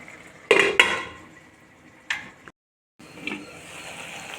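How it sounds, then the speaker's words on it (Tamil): A metal lid set onto a cooking pot of tomato curry, two sharp clanks close together followed by a lighter clink, then a brief pause and faint kitchen rustling. "இதை டூ மினிட்ஸ் வந்து மூடி போட்டு நல்லா வேக வச்சிடலாம்"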